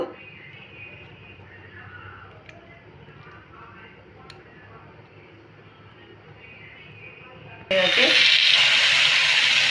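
Bread dipped and laid in hot oil on a tawa over a medium gas flame erupts into a loud, bright sizzle near the end, after a quiet stretch with only faint ticks.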